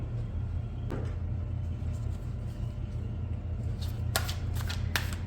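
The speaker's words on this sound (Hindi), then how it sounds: "जब तक मैं कार्ड शफल कर रही हूँ आप लोग भी अपने मन को शांत रखें" Tarot cards shuffled by hand, a soft riffle early on and a quicker cluster of shuffling strokes near the end, heard close over a steady low rumble in a quiet room.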